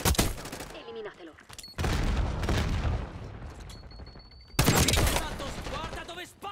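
Gunfire in the video game Black Ops 6 comes in loud bursts of rapid shots with booming impacts, separated by quieter stretches, with voices speaking over parts of the action.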